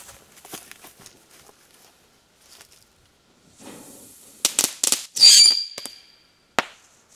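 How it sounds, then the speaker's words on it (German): Leftover consumer fireworks from a faulty batch fizz and hiss, then give a cluster of weak, sharp pops and crackles, with a few scattered ticks and rustles before and after. "Weil hier ist der Knall wirklich ganz, ganz mies."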